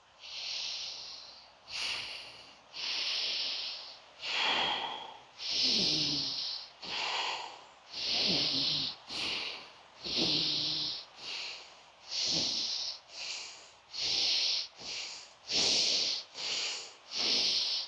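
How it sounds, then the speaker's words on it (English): Deep, full yogic breaths during a Kundalini yoga session, a steady series of long airy inhales and exhales through the nose, close and loud, repeated rhythmically with short pauses between them and no talking. "Taking deep, full breaths in and deep, full breaths out"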